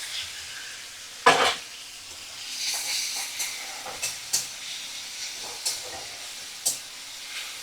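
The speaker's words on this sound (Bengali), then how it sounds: "আর চিংড়ি মাছগুলো মিডিয়াম ফ্লেমে রেখেই ভাজা করব।" Shrimp frying in a pan over a medium flame, a soft steady sizzle broken by sharp spatters, pops and utensil clicks, close and alone with no talk.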